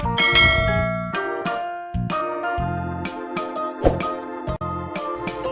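Bright bell chimes for a channel notification, several ringing tones layered and sustained over a few seconds, loud and alone with no talking.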